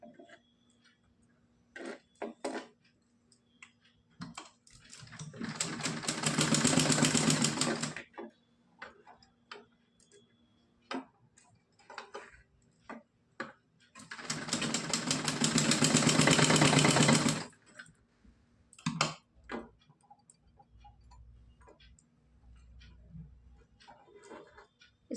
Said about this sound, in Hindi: इस तरह से चारों तरफ हम सिलाई लगाएंगे पहले। तो हमने साइड में सिलाई लगाई है।